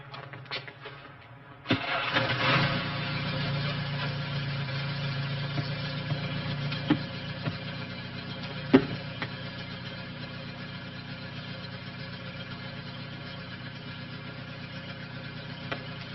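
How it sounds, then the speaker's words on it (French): Car engine in a 1943-set French war film cranks and starts after a short buildup, then settles into a steady, fairly loud idle with a few faint clicks over it. "mets ton moteur en marche, soyez prêts à partir"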